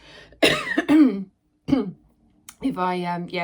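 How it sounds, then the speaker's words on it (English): Someone with hay fever coughs a few times in close, harsh bursts, then speaks briefly afterward. "I'm coughing as well"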